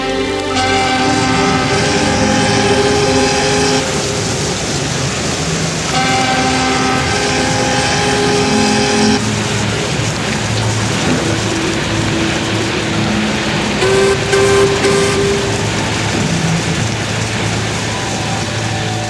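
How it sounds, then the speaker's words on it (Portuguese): A tugboat's engine drones loudly and continuously, with strong sustained tones and a steady mechanical rumble. The tonal pattern shifts in blocks as the sound grows, with no voices. "O som do motor aumenta"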